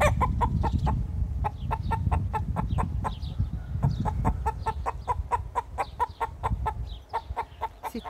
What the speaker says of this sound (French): C'était le gardien de ces dames poules